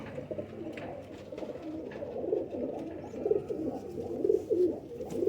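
Lakha pigeons coo steadily and close by, a layered, throaty murmur of several birds that rises and falls in overlapping rolls without pause.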